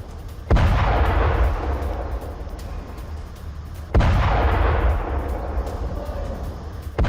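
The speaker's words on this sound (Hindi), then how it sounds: "अल दुबैर इलाके में इजराइल की बमबारी जारी है" Israeli airstrike bombing in southern Lebanon, with two heavy, booming blasts a few seconds apart, each followed by a long rumbling decay, loud and distant-sounding.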